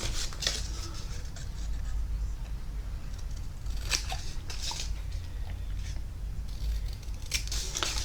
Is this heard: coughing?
no